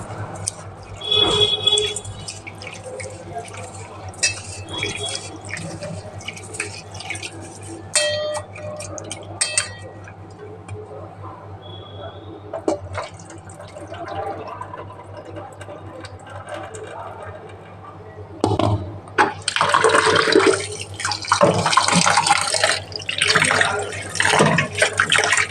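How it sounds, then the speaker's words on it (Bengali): Rice being washed by hand in water, with close sloshing and swishing that grows louder and splashier toward the end over a steady background hum. "বাজারের চাল তো ভালো করে একটু না ধুলে দেখো না সাদা সাদা জল বেরোচ্ছে"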